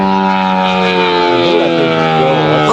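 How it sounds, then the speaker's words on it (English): A giant scale F8F Bearcat model airplane roars past with a loud, steady propeller-engine drone whose pitch bends downward as it passes close by. "I mean, it's been a while since I've seen this plane fly, but man, it just screams."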